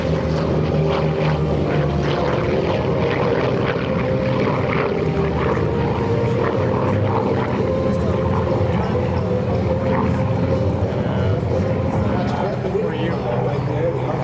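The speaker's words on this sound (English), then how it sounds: "the distinctive growl of that huge radial engine" An F4U Corsair's huge radial R-2800 engine growls at an air show, with a four-blade propeller. Loud and continuous, a deep steady roar holds throughout, with a voice talking over it.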